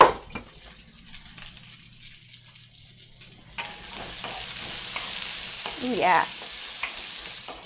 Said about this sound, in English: let's go ahead and stir those sweet potatoes